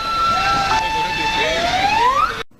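Emergency vehicle sirens wail at the scene of the Cromañón nightclub fire, with loud overlapping tones sliding up and down in pitch before cutting off abruptly.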